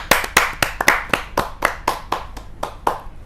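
A small audience at a Hindi kavi sammelan claps to welcome a poet: close, crisp hand claps in a fairly even rhythm from just a few people, with no talk over them.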